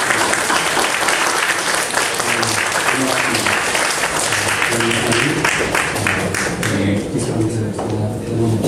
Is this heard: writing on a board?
no